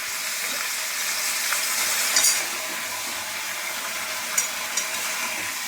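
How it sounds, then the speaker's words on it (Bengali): Fish curry vegetables and potatoes are stir-fried in a pan, giving a continuous sizzle with occasional scraping stirs and small clinks at a close, even level. "দিয়ে আমি এটা ভালো করে একটু কষি।"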